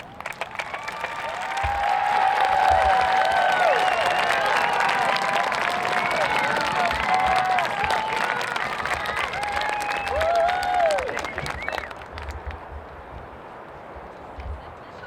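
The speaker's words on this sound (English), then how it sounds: "let's give a big round of applause to our teachers" A high school graduation crowd claps and cheers for the teachers in a broad, sustained wave of applause that fades out near the end, with whoops rising over the clapping.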